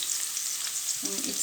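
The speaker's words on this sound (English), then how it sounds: "in goes the garlic. In goes the garlic." Garlic sizzles in a hot pan for a moment, a soft steady frying hiss with a brief clink or stir near the end, no talking.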